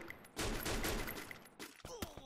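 Rapid bursts of gunfire in the Free Fire video game, a dense volley followed by a few sharper shots, fairly quiet in the mix.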